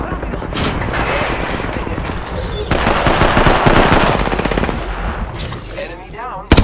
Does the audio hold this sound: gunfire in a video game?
yes